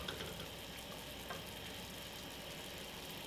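Chicken cooking Indonesian style in a pan, a faint, steady frying hiss that holds evenly throughout with no talk.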